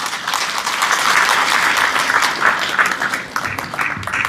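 A crowd at a book launch event welcomes a former lawmaker with loud, dense applause, a sustained roar of clapping that holds steady and then tapers slightly near the end.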